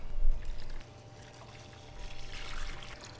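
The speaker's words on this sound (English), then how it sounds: "I'm just going to get that dumped into my little turkey brine bucket and distilled water." Turkey brine mix is dumped into a small brine bucket of distilled water, giving a short splashing pour at the start, a pause, then a second softer wash of water close by.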